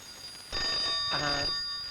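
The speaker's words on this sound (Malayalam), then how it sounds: "ഫോൺ ബെല്ലടിക്കുന്നത് നിനക്ക് കേട്ടൂടെ" Two short bursts of a telephone bell ring out close by and fairly loud, with no talk over them.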